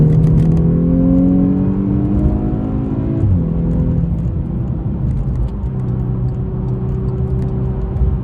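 A VW Scirocco R engine accelerates on the road, rising through the revs in a loud, close drone, then a brief dip at a gear change, followed by a steadier running hum.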